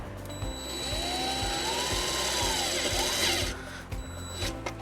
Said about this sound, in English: Now we're going to take our provided self-tapping screw and ground the white wire to the frame.